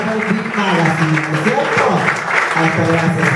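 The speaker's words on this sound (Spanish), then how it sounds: "Fuerte el aplauso para el señor Claudio Delgado." Studio audience applause at a Spanish-language TV entertainment show, steady and dense clapping that fills the whole moment at a constant level.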